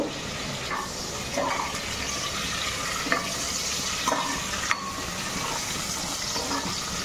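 Onions, dry red chilies and seasoning seeds frying in hot oil for a tempering, a loud, continuous close sizzle with occasional spoon scrapes and taps against the pan, no voices.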